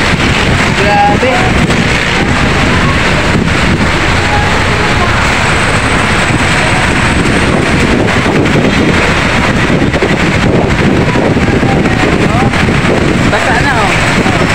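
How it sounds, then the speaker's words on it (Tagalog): A sudden heavy downpour with gusting wind, a broad roaring wash buffeting the microphone throughout, loud and close, with people talking excitedly underneath. "Biglang bumuhos ang ulan."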